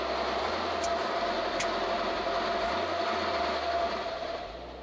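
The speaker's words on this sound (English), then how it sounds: "It's a train." A passing train gives a steady, broad rumble with a faint rhythmic rail clatter, holding fairly constant and then easing off slightly at the end.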